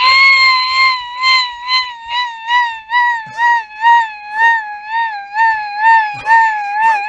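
A bicycle's wheels squeak in a shrill, wavering whine that pulses in rhythm with each pedal stroke, loud and close, repeating steadily for several seconds with no talking.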